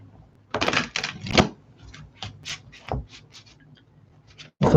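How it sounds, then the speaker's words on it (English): Tarot cards are shuffled by hand in a series of quick riffling bursts and soft flicks, irregular in rhythm, close and fairly crisp in a quiet room. "I will shuffle the cards here"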